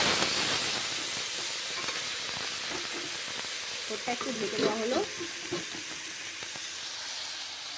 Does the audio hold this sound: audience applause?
no